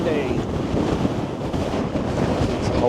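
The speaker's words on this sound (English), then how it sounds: "Oh, windy!" Strong wind buffets the microphone on a hillside at sunrise above Lake Windermere, a loud, steady rumbling roar that runs throughout with no clear voices over it.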